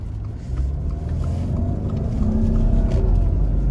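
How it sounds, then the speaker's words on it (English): A turbocharged car engine accelerating, heard from inside as a deep, steady rumble that swells gradually louder, with road noise underneath. "You gotta love the turbo."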